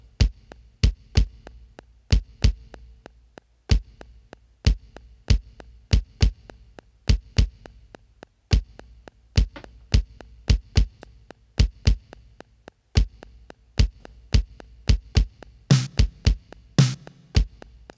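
A Yamaha RX11 1980s drum machine plays a steady, punchy pattern of deep thumping kicks with crisp accents from its mixed stereo output, ending with a brighter fill near the finish.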